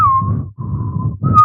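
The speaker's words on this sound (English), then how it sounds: "this is what I think our thing sounds like, the whistle version of our song" A whistled rendition of a podcast theme tune, three sustained, gliding whistled phrases with brief gaps between them, loud and close over a low background hum.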